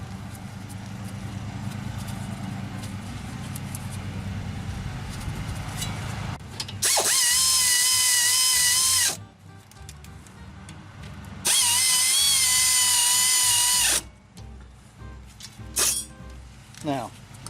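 Two loud, sustained bursts of a whining cordless power tool driving bolts while changing brake pads on a 2010-2014 Subaru Outback, each lasting a couple of seconds, separated by duller background noise and muffled activity.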